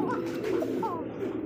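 A female pigeon coos close by in a few soft, throaty warbling calls, with a faint murmur of room noise behind.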